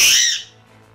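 Parrot letting out one loud, shrill squawk right up close, fading within about half a second into quiet room tone.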